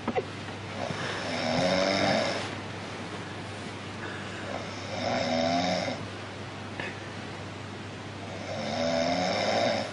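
A person snores in a slow, steady rhythm, with three long rasping inhalations spread across the stretch over a constant low hum, close and fairly loud in a quiet room at night.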